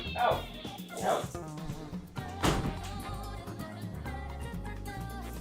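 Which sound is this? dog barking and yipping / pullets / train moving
dog barking and yipping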